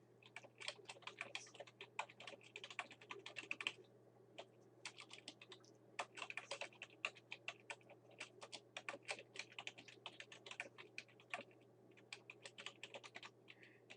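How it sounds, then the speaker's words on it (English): Someone types on a computer keyboard in a quiet room, with steady, quick key clicks coming in short bursts and brief pauses, close up and fairly soft over a low background hum. "So I'm going to type in Kodiak"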